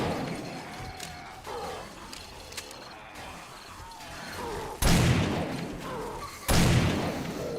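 AK rifle shots in the zombie game 7 Days to Die, two loud sharp cracks late on with a faint clatter before them, over low ambient rumble.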